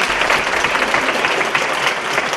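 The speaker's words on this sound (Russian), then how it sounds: "Под ваши аплодисменты." Dense, steady applause from a large audience at a public address, filling the clip without a break and with no talk over it.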